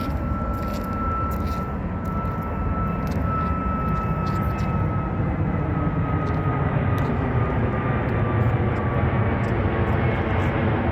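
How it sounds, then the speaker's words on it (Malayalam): An airplane passing overhead gives a steady, broad engine roar that holds at a fairly even level the whole time, with some faint background noise from the street and the people nearby. "ഇതേ ഒരു ഫ്ലൈറ്റ് പോകുന്നുണ്ടോ?"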